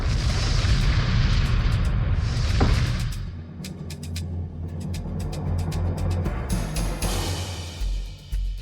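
A bomb goes off with a deep, heavy boom and rumble, followed by a fading low roar, scattered sharp crackles and debris noise.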